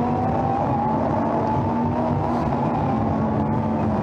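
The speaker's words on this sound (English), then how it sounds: "the cars accelerate towards the Lesmos" Lamborghini Super Trofeo race cars accelerate through the closing stages of a race at Monza, engines droning loud and steady with a sustained high whine and rising tone, continuous throughout with no talk.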